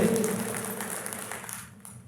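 Audience applause at a Hindi kavi sammelan poetry recital, a dense wash of clapping that fills the room from the start and then thins out and fades toward the end.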